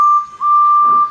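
Steam whistle of a small blue tender engine, a single clear sustained tone, loud and close, lasting about a second with a brief dip midway and no talk.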